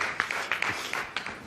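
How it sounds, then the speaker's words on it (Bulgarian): Brief scattered applause from an audience at a Bulgarian public gathering: a handful of distinct, fairly close claps at an uneven rhythm, moderately loud, with no voices over them. "Аплодисменти."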